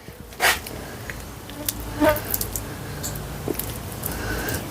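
Honey bees buzzing around a hive during a honey harvest, a faint continuous drone with a few louder passes as individual bees fly close.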